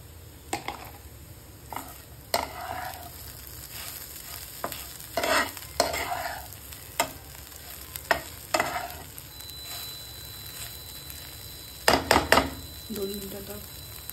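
Okra (bhindi) sabzi sautéed in a pan, with crisp spatula scrapes and stirring strokes coming in irregular bursts over a low, soft sizzle, up close.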